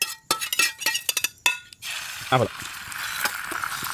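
Sharp clicks and clinks of cracking and handling give way to a steady, close sizzle of an egg hitting a hot pan, with a brief voice over it.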